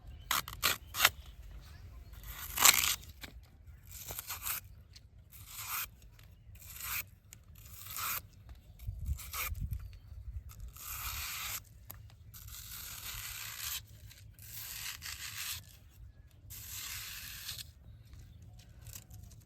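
Taro stalks are cut up for chips with a series of close, crisp tearing and snipping bursts in an irregular rhythm, separated by short quiet gaps.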